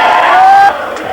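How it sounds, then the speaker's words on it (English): A football crowd of Wycombe Wanderers supporters sings together outside the Civic Centre in a steady, massed chant that is loud and fairly close, held for about a second. "The crowd outside the Civic Centre now joining with the players. Glory, glory, Wycombe Wanderers, they sing"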